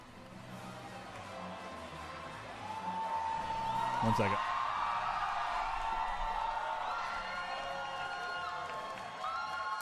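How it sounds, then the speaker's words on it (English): A crowd at the E3 2019 livestream cheers and whoops faintly from a distance, rising midway under music and an announcer-style voice, with a person speaking briefly over it. "I can't tell what they're cheering at because it's such a tiny screen."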